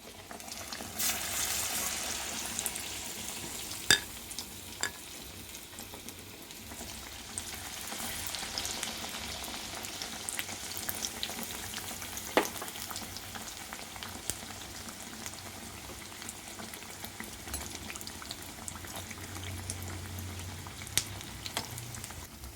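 Raw banana bajji deep-frying in hot oil, a steady close sizzle and bubbling with occasional sharp pops and crackles throughout.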